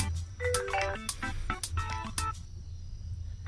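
A phone ringtone sounds as a friend calls. A short melodic tune repeats in bright, tonal bursts over low background rumble, then fades into quieter ambience.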